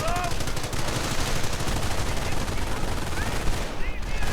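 Sustained 30 caliber machine gun fire in a World War II strategy game, dense overlapping bursts and battle noise running steadily throughout at a consistent loud level.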